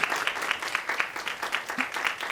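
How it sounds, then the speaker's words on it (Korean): Audience applause closes an open forum lecture on Korean Peninsula affairs and diplomacy: a brisk, even patter of many hands clapping, moderately loud and sustained throughout, with no speech over it. "모두 큰 박수를 부탁드립니다"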